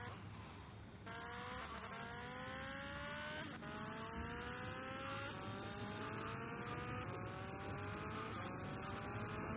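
A motorbike in the video game GTA Vice City whines steadily along, its engine pitch rising in repeated gear-shift sweeps under a constant road and traffic hum. No talking.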